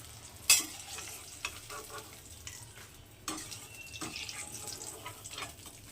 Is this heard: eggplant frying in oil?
yes